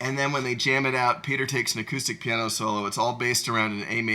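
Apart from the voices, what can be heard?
No everyday noises stand out.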